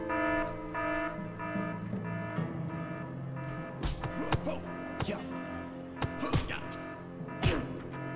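In the video game Evil Genius, an alarm sounds with repeated electronic tones, joined by sharp hits and clatter from the game's action, at a moderate level.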